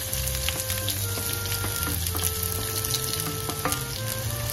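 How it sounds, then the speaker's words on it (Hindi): Roughly chopped onions, two large ones, fry in hot mustard oil, a loud, continuous crackling sizzle close up with a few light stirring taps. "अब मैं इसमें लगभग 2 बड़े साइज की रफली चॉप्ड हुई प्याज डाल देती हूँ"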